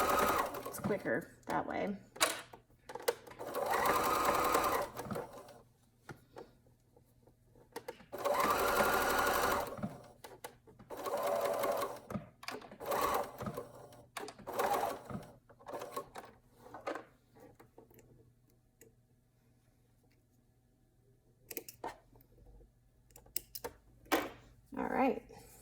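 A sewing machine stitches an elbow band onto a knit arm warmer in short bursts of rapid needle chatter, each running a few seconds with quiet gaps between, as a person talks throughout.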